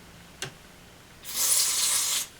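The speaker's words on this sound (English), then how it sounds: "spray it with a bit of deoxit," DeoxIT contact cleaner sprayed onto an amplifier socket on a Mesa Subway Rocket, one steady hissing burst of about a second, close and clear, preceded by a small click.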